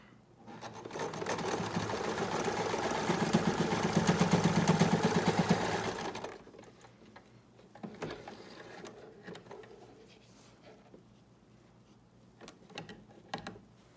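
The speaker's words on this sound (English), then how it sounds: "Now we're gonna sew the pleats in just by zipping down each side." A sewing machine runs steadily for about six seconds, a loud close whir while stitching pleats into a fabric mask, then stops, leaving faint handling rustles and small clicks.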